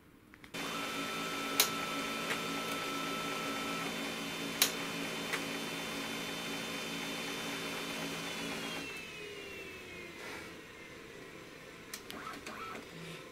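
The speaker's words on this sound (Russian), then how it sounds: "включаем принтер." A Brother DCP-7030R laser multifunction printer powers up with a click, then hums and whirs mechanically for several seconds, with sharp clunks, before the motor winds down.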